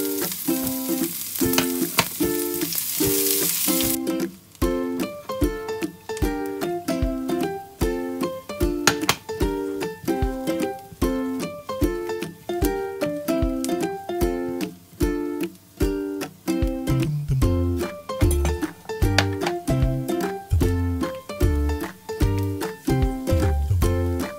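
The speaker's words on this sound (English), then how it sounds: "Saute the onion until translucent, followed by the minced garlic until aromatic." Onion and minced garlic sauté in a pan with a loud, continuous sizzle and frying crackle, steady throughout with no talking.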